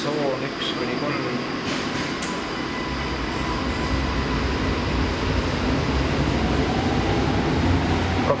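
Milan metro train in the station, a steady loud rumble and hum of rail traffic filling the platform throughout, with faint squeals and people talking underneath.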